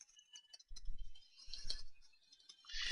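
A computer keyboard is typed on in short bursts of soft clicks while entering a password, close and fairly quiet, with a brief pause between runs of keystrokes.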